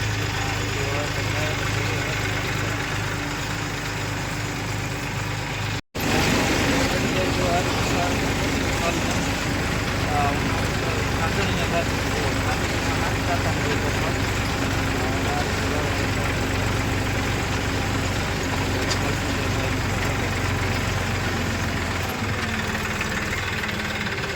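A tractor engine idles on a farm field during sowing, a steady low rumbling throb that runs continuously and close by, cutting out for an instant early on before carrying on unchanged.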